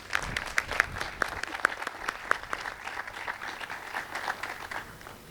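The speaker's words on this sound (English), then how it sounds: "Let's give ourselves a round of applause." Round of applause from the audience at a welcome back ceremony, many hands clapping together in a steady, moderately loud patter that continues throughout.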